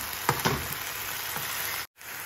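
Mushrooms stir-fried with seasoning and pepper in a hot pan, a continuous sizzle with a few sharp scraping stirs early on, then a brief dropout before the frying resumes.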